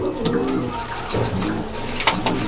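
Young, lightweight home-bred pigeons in a loft at Durgapur, South 24 Parganas, coo steadily and close by, with soft repeated throaty calls over a busy background and no talk.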